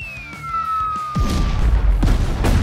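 Cartoon explosions as mistletoe bombs drop from flying space reindeer, a falling whistle giving way to a loud, booming crash followed by several more blasts in quick succession.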